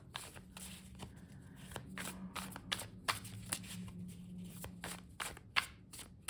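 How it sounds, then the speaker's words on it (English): Tarot cards are shuffled repeatedly, crisp riffling and slapping bursts in an uneven rhythm, close and fairly quiet, with no voices. "we're just going to shuffle a little bit more with intention here"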